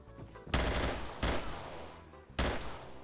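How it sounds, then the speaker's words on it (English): Arma 3 gunfire in a multiplayer match cracks out in three loud, sharp bursts spaced under a second apart, each echoing off briefly, with no voices. "we're hearing some more gunfire up here"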